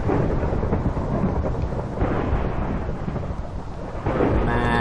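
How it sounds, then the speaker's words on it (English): Thunderstorm in the Minecraft video game, with loud rolling thunder and steady rain filling the whole stretch, a fresh crack of thunder rising near the end. "What a crazy storm. Everything keeps getting struck by lightning."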